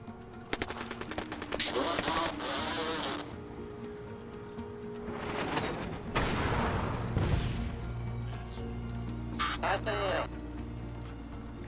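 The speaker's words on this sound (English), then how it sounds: "These airstrikes. Kind of nuts, aren't they?" Airstrike explosions and gunfire in the strategy game Rebel Inc, bursts of rapid firing and booming blasts arriving in separate volleys, loud and close, with someone talking over them.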